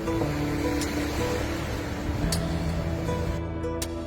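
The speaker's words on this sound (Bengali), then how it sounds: "মালদ্বীপে শব্দ দূষণ না থাকায় স্পষ্টভাবে সমুদ্রের ঢেউয়ের শব্দ শোনা যায়" Ocean waves at Hulhumale beach in the Maldives, a soft steady wash of surf heard from a short distance, fairly faint, with a few brief sharp sounds near the end.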